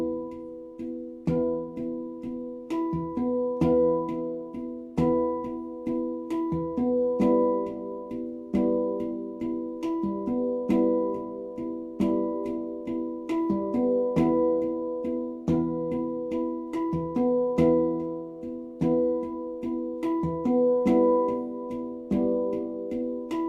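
Halo Aegean handpan played slowly in a steady double-strike pattern, each pair of ringing metallic tones sustaining and overlapping under continuous resonant shimmer, close and alone.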